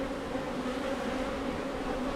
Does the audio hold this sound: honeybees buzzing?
yes